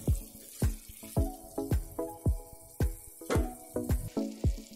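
Tomatoes with salt sautéing in a pan for ghee rice, a metal spatula striking and scraping the pan in a steady rhythm of ringing clanks, close and moderately loud.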